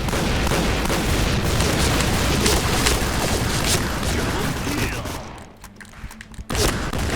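A newly released M1014 shotgun fires in the online shooter Point Blank, a dense run of loud gunfire continuing for several seconds, then a brief lull and a final blast, with someone talking underneath.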